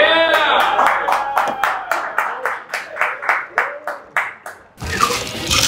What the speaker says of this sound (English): Some cheers from the crowd